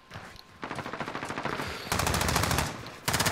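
Rapid bursts of video game gunfire, automatic fire rattling in fast repeated volleys with brief gaps, loud and close, with no talking.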